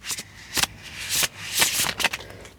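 A Tarot of the Abyss card deck being shuffled up close, several bursts of riffling and rubbing cards spaced across a couple of seconds, fairly quiet with no talking.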